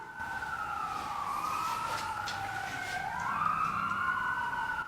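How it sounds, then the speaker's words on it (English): Multiple wailing police sirens rising and falling together in the distance, fairly faint and continuous, with no talking. "Oh, sirens."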